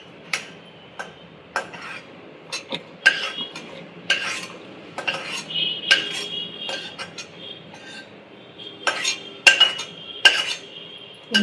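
Puffed rice roasting in a pan, with repeated scraping, clinking strokes of a metal spoon against the pan in an uneven rhythm, close and alone without talk.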